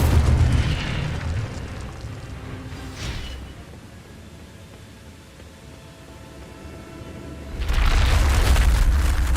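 An Incendio fire spell cast in Hogwarts Legacy, a heavy booming whoosh of flame, loud at the start, then a quieter lull before another deep roaring burst near the end, with no talking.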